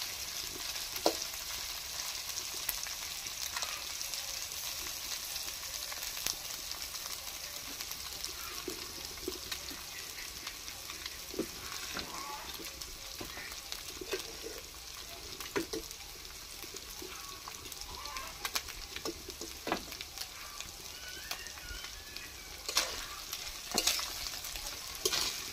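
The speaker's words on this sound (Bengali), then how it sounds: "বেশি ভাজা চলবে না, চিংড়ি মাছগুলো তুলে নিচ্ছি।" Prawns fry in a pan for a Bengali bottle-gourd and prawn dish, giving a steady broadband sizzle with intermittent clicks and scrapes of stirring throughout, and no talking.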